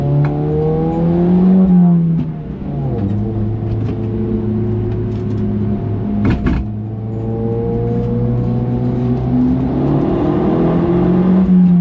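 A Suzuki Swift rips along a winding mountain touge road, its engine loud and close as it revs up through the gears in repeated rising pulls with short dips between shifts.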